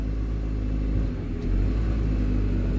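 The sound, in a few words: Peugeot car engine running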